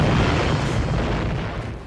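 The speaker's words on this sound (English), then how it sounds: "warships would pound each other to pieces at very close range with a steady barrage of cannon fire" Wooden warships exchange a close-range barrage of iron cannonball fire, one heavy booming blast with a long rumbling decay that fades over a couple of seconds, loud and alone.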